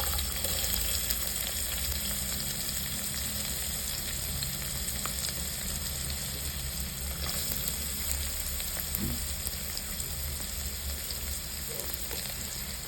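Steady, close sizzling of chopped onions and green chillies frying in hot oil, continuous and even throughout with no talking.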